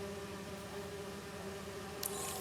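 Bees buzzing in the Marvel's Spider-Man 2 video game, a steady low drone held at an even level throughout, with a brief faint chirp near the end.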